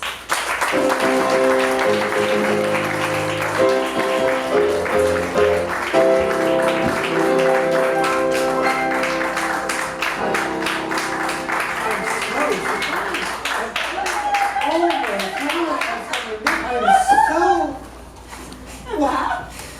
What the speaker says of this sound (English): Let's give Charles Peter a big round of applause